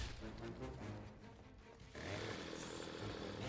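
A chainsaw attack in the video game Gears of War revs loudly in a harsh, roaring growl over dense game noise, and it swells louder and brighter in the final second and a half.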